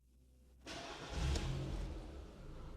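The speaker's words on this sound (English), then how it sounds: "Now start the engine." A car with an AG4 01M four-speed automatic transmission starts after a quiet pause, the engine catching with a brief rev and then settling into a steady, close idle.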